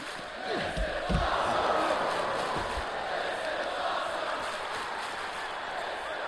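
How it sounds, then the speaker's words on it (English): Wrestling crowd noise in the video game WWE 2K24, a steady, distant arena roar of cheering that swells early and then holds at a moderate level, with a few thuds near the start. "Listen to the crowd telling you how awesome this is."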